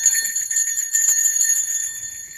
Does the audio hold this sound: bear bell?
yes